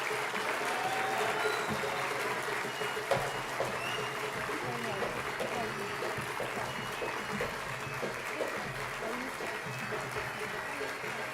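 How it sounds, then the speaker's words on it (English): Sustained applause from a large audience at a 2022 special convocation, welcoming dignitaries including a healthcare chairman and the chancellor; dense, steady clapping fills the whole stretch at an even level. "Please welcome them with a huge round of applause."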